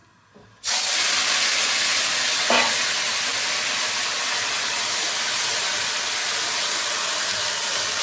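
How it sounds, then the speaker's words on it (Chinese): A loud, sudden burst of frying starts as pork liver goes into hot oil, then holds as a steady, close, hissing sizzle. "把油烧热，下猪肝。"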